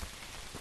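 Steady rain falls across the whole stretch, a dense, even hiss of drops on surfaces outdoors in the woods, fairly loud and continuous with no voices.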